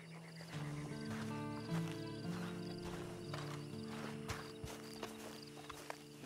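Horse hooves clip-clop at a walking pace in Red Dead Redemption 2 Online under soft background music, with a brief whinny, the steps close and fairly quiet.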